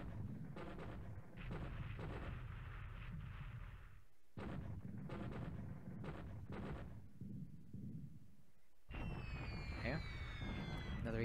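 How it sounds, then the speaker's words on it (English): Heavy, booming bomb blasts hit a tanker in the War in the Pacific naval combat game, arriving in repeated rumbling bursts with short gaps between them and whistling sounds near the end, heard beneath ongoing talking. "That's the second pretty big bomb on that tanker."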